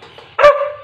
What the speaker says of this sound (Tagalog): At ito ang aking aso.